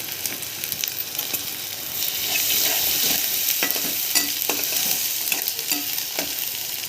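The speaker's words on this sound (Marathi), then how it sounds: "कोथिंबीर अशी फोडणीमध्ये टाकली की त्याला छान टेस्ट लागते" Chopped coriander hits a sizzling tempering of softened tomatoes in a pan while cooking a moong bean amti, giving a steady close sizzle broken by scraping stir clicks that grows slightly louder midway.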